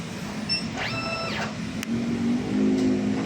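A DTF printer cycles through a print head clean, with a mechanical whir rising and falling in pitch near the start, then a steady motor hum and a brief click.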